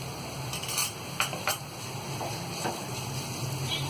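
Turmeric powder being stirred into fried chillies in a pan on lowered gas for aloo vada: a few soft utensil scrapes and clinks against the pan over a faint steady sizzle, no talking.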